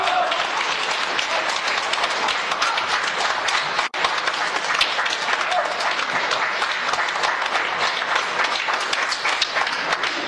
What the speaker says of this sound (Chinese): 谢谢大家雷鸣般的掌声